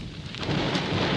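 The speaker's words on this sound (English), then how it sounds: "Cue the thunder." A deep thunder rumble swells under a rushing bed of rain, a sound effect played on a 1974 AM radio broadcast, building steadily louder with no voices.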